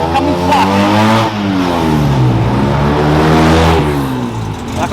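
An Alfa Romeo Giulia Super drives by close, its engine note rising and falling in pitch as it passes, with people talking faintly in the background.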